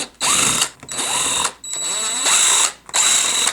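A power drill spins screws out of a CFMOTO UForce 1000 XL headlight housing in three or four close, whirring bursts with short pauses between them.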